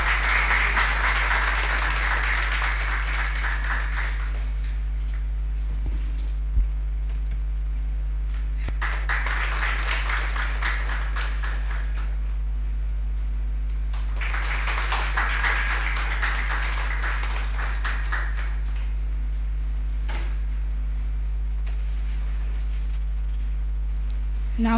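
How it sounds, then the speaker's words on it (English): Audience applause for the chief guest at a college sensitization training event in an auditorium, coming in three separate bursts of clapping over a steady electrical hum, with quieter gaps between them. "Please, a big round of applause for our chief guest."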